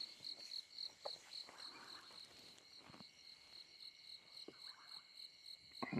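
Bubbling cassina and platana frogs call at night in the Lowveld bush, a steady insect-like chorus of repeated pulsing notes at moderate distance, with a few sharper louder calls breaking through.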